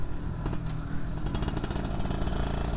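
Yamaha F1ZR motorcycle with a hollowed-out stock exhaust, its engine giving a loud, continuous rough rasp with fluttering revs, heard up close and on its own.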